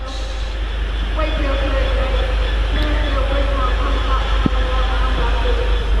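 A freight train running from Doncaster Decoy Yard to Tyne Yard rumbles steadily past on the East Coast Main Line at Doncaster, a loud continuous rolling roar with wheel clatter and a sharp knock near the end.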